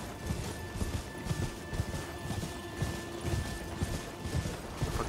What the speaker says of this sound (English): There's a knight with a horse.